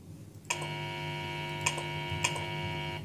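Sustained electronic beeping tone with steady harmonics from the FNaF Sister Location controlled shock, starting abruptly and holding for about two and a half seconds, with two brief sharper accents partway through.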